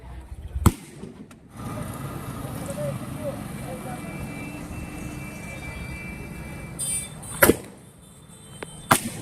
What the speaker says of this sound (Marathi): कार्यकर्ते फटाके वाजवून त्यांचा आनंद आणि उत्साह साजरा करताना